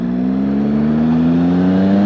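Triumph Speed Triple ABS motorcycle engine pulling hard under acceleration, a loud, steady exhaust drone rising slowly in pitch as the revs climb, close and continuous with no talk.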